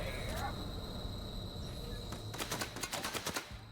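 Rapid gunfire rattles in The Outer Worlds, moderately loud and growing sharper toward the end as a quick burst of shots, over a steady background hum, with a voice speaking partway through.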